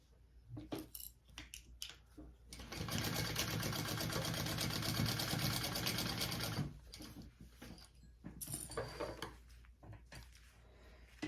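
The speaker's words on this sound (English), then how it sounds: "now I'm going to do the full seam allowance here." A home sewing machine stitches the full seam allowance on a bag's back piece, a steady rapid mechanical whir running for about four seconds, with quieter handling clicks and rustles before and after.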